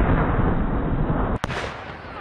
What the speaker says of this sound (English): People using explosives to create dramatic mushroom clouds